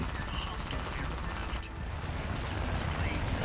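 Continuous War Thunder gunfire, a dense steady rattle of machine-gun fire that fills the whole stretch at an even level, with a brief dip partway through.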